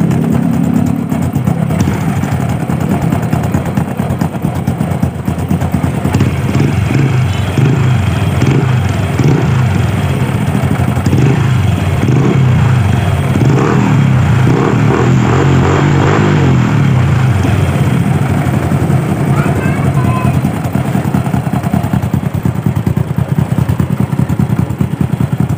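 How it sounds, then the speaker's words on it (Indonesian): A Honda Supra motorcycle engine runs with its exhaust, giving a loud, continuous, close-up rumble with uneven pulsing throughout and no talking. "Ada juga suara knalpot nih."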